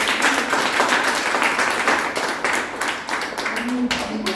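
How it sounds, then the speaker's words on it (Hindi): Clapping fills the room as an audience of mothers, some with small children, applauds at a Mother's Day celebration, a dense, steady wash of many hands that stays loud and close throughout. "और जो माएँ अपने छोटे छोटे बच्चों के साथ आई हैं, बस जोरदार तालियां यार"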